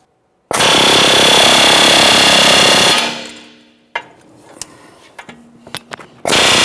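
A loud, continuous burst of rapid air hammering on a 2015-2019 Subaru Outback front lower control arm and ball joint runs for a couple of seconds, fades, then gives way to scattered clanks before the hammering resumes.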